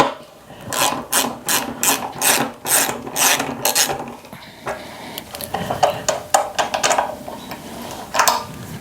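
Wrench work loosening a hex head bolt on a 1986 Honda Shadow VT500C motorcycle, heard as repeated close ratcheting and rasping bursts in quick rhythm, then quieter scraping and clicks with no talk.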